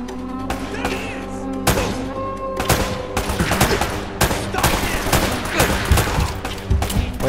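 Rapid bursts of gunfire from Uncharted: Drake's Fortune Remastered, loud and dense over several seconds, with repeated sharp shots layered over game music and a voice talking.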